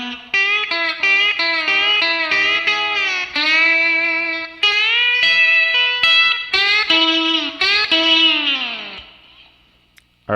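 A slide guitar lick played through heavy distortion with some chorus and echo: bright sustained notes slide up and down in short phrases, loud and alone, then ring out and fade.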